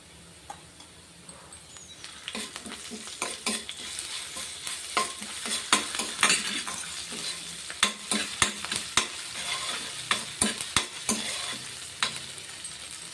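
Onion, ginger and garlic sizzle in a hot pan, a steady frying hiss broken by sharp, irregular scrapes and clicks of a spoon stirring, growing busier toward the end; no one speaks.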